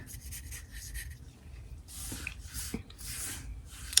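Close, soft pencil strokes rasping across paper while sketching a hummingbird, in short light scratchy bursts with brief pauses between them.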